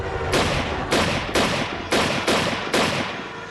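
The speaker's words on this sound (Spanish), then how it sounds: "Buck realizó 6 disparos." Six gunshots come in a steady, evenly spaced sequence. Each is a loud, sharp crack with a short decaying tail, and the next shot begins before the echo fully fades.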